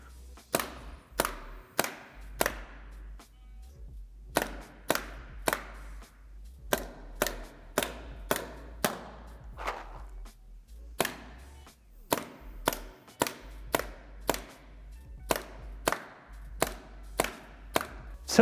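Paintball gun shots ring out in sharp, close pops, fired at a paintball mask in quick bursts of two to four with short pauses between, about twenty shots in all with no talking.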